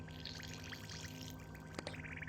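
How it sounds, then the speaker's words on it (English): Water is poured into a flour batter mix of makki flour for a smooth paste, a soft, continuous trickling pour heard close with small splashy bursts near the end. "Add water to make a smooth paste."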